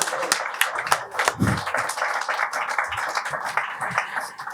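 Festival audience applauding Manuela at the PALP Festival, a steady patter of many hands clapping through the whole stretch, moderately close, with a few louder single claps and a low thump near the start.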